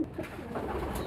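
Pigeons coo softly and close by in a short, low, rounded burst, with no talking over them.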